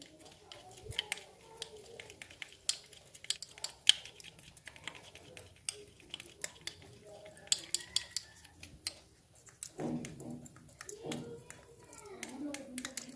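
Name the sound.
mixing lemon and olive oil nail remedy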